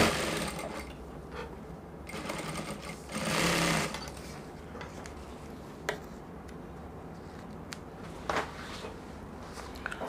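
A sewing machine stitches collar pieces together for a kaftan, running in steady, close bursts with a louder stretch early on and small clicks between, no talk over it.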